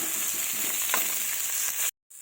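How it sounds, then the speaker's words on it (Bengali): Eggplant and potato pieces fry together in a pan, giving a loud, steady, close sizzle that runs without pause for about two seconds and then cuts off abruptly. "এই বেগুনগুলোকে আর আলুগুলোকে একসাথে ভেজে নেব"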